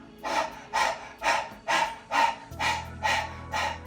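Breath of fire yoga breathing by a person, about nine rhythmic forceful breaths imitating a panting dog, close and loud in an even, quick pulse.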